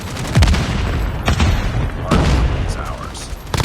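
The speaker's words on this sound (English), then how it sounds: "Grenade." Grenade blast in Call of Duty Mobile during a Hardpoint match, a short burst of booming impacts mixed with rapid gunfire, loud and close, with a game announcer voice calling out.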